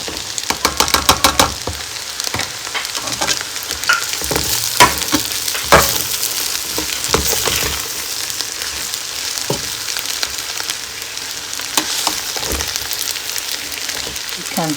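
Chinese fried rice with fried eggs mixed in is stir-fried in a pan with a continuous loud sizzle, quick scraping and clattering strokes at the start, then steadier hissing frying with occasional utensil knocks.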